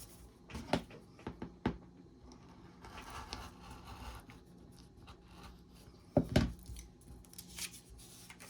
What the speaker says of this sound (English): I find it easier to cut on this side of the fabric rather than that side of the fabric